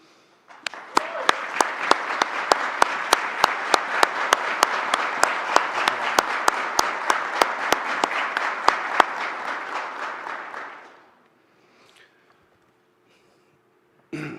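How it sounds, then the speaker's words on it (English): An audience at a fire recruit graduation applauds the instructors, with sustained dense clapping and sharp individual claps for about ten seconds before fading to quiet, then a brief sound at the end. "would you give a round of applause for your instructors, please?"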